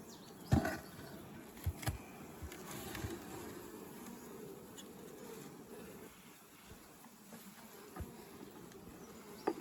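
Honey bees from a Russian nucleus colony hum steadily around an open hive during an inspection, a continuous mid-level drone with a few louder buzzing passes close by and faint handling noises.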